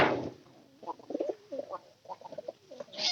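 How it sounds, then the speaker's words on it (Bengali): A white pigeon coos close by in several soft, throaty bursts separated by short pauses, fairly quiet and with nothing else behind it. "পায়রাটার ডাক ডাক হিসেবে কিন্তু অনেক ভালো।"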